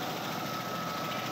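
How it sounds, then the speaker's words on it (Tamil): An Eicher 242 single-cylinder tractor engine runs steadily while driving a rice mill attachment in Kollimalai Hill, a loud, continuous droning hum with no pauses and no voices. "இது போல் டிராக்டர் அட்டாச்மெண்ட் ஈச்சர் 242. இது வந்து பார்த்தீங்கன்னா சிங்கிள் சிலிண்டர் இன்ஜின்."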